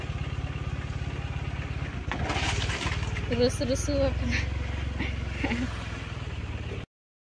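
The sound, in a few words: motorcycle engine running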